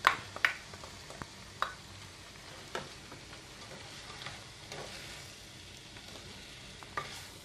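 Squid thoran with grated coconut and pepper powder stirred in a pan, a faint low sizzle with soft scattered scrapes and a few clicking utensil taps.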